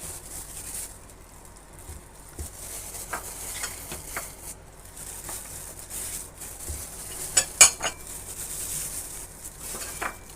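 Quiet stirring and mixing of cucumber kimchi seasoned with chili and salt, soft wet patters and small clinks of utensil against bowl scattered irregularly over a low, steady background.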